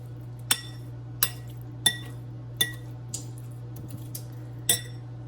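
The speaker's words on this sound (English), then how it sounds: "I'm gonna stir it up." A tablespoon stirs a pot, giving a series of sharp metallic clinks about every half second to second, with some softer taps between. A steady low hum sits underneath.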